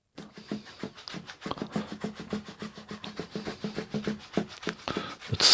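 Oil paint mixed from crimson and cadmium yellow deep with a touch of turpentine is scraped onto a sunset painting, giving a close, steady run of short rubbing and scraping strokes in a rough repeating rhythm with no talk.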